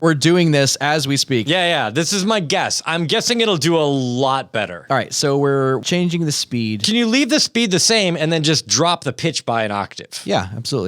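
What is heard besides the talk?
No everyday noise stands out behind the speech.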